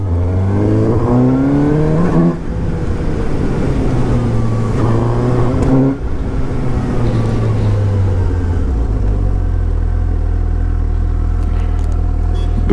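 A 2017 Suzuki GSX-S750 motorcycle engine on a test ride, loud and close, revs up and down through the gears with rising whines and then settles into a deep steady drone.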